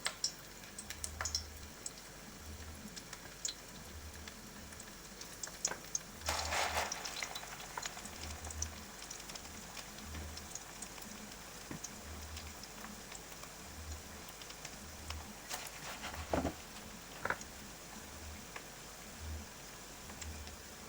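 Potato pancake sandwiches (deruny) fry in a pan over medium heat with a steady soft sizzle, scattered ticking pops and occasional louder crackles, close up and with no voices.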